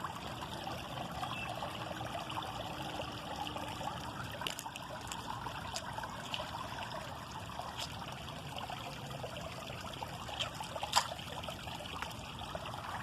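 Stream water trickles and burbles steadily outdoors, a continuous close wash of small splashes with a few sharper drips, and a brief spoken word over it.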